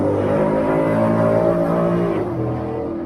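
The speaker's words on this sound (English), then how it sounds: "It's probably the best sounding Mustang I've heard in a long time" A Ford Mustang engine holds a loud, steady rev with a rich, harmonic exhaust tone, then drops slightly in pitch near the end, heard close by and with no talking.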